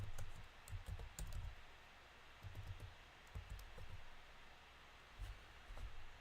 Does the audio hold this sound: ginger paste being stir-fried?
no